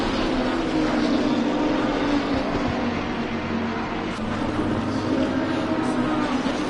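Race car engines from Assetto Corsa Competizione during a multiclass GT race at Bathurst, a continuous loud drone of several engines with no breaks or pauses.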